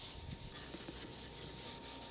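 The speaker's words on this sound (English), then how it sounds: "we're going to take our sandpaper off and do the edges" Sandpaper rubbed along the edges of a piece of wood during finishing, a continuous close scratchy rasping with slight back-and-forth surges and no pauses or voices.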